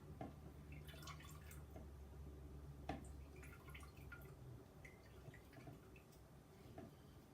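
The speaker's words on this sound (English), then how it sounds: "And squeeze the juice straight into this water." Lemon juice squeezed by hand into a glass of water, falling as quiet, irregular drips and small splashes, with one sharper tap near the middle, over a faint steady background hum.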